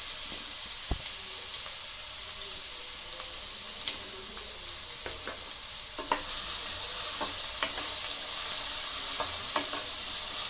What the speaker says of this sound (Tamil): ஆனியன் நல்லா ஃப்ரை ஆயிடுச்சு.